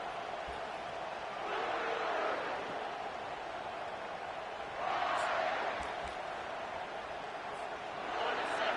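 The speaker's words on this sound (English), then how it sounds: "This crowd trying to make life miserable for this offense." A college football game's crowd, with a broad roar that swells in waves and falls back under steady play-by-play commentary.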